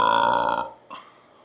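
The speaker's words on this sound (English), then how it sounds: "I'll have a lot of burps coming up." A single long, loud, close burp that fades out, followed by a short, softer second burp.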